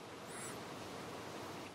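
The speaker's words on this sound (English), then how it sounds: "So on a day like this, when it's pouring rain every now and then" Heavy rain pours steadily outdoors, an even, dense hiss that holds at the same moderate level for the whole stretch, with no voices over it.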